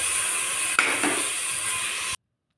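Tomato and ginger garlic paste frying in oil for mutton biryani, a steady close sizzle with one faint utensil clink early on before the sound cuts off abruptly.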